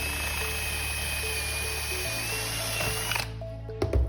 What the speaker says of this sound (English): You'd have to angle the drill a little bit because you can't get straight to it because of the shroud.